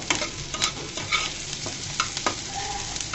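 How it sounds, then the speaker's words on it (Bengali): Sliced onions sizzle steadily in hot oil in a pan, interrupted by repeated scraping stirs from a spatula, close and fairly loud with no voices. "এগুলো ভাজা ভাজা করে নিব।"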